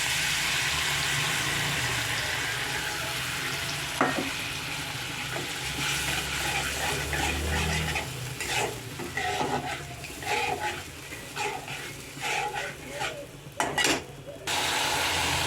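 Cashew paste with raisins, thinned with water, goes into a hot pan with cumin and is stirred, giving a steady sizzle with scraping, clinking utensil sounds and splashes throughout.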